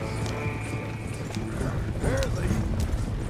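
Horses clip-clopping at a gallop in the video game Red Dead Redemption 2, with a rapid, steady hoof rhythm close by, mixed with a low rumble, faint whinnies and someone shouting over the top.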